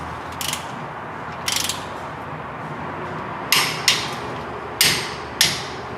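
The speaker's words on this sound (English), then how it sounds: "got my torque wrench here set to 33 foot-pounds" Wrench clicks on differential cover bolts of a Ford F-series pickup, tightened to 33 foot-pounds in a cross pattern: six sharp metallic clicks, two spaced apart and four quicker ones, close by over a low steady background.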